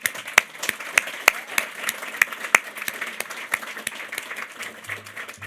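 Audience applause at an oration event, a dense, steady patter of many hands clapping with sharp individual claps standing out, sustained evenly throughout with no talking.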